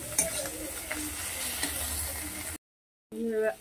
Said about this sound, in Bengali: এটা মিনিট 2 মতো আমি একটু কষিয়ে নেব।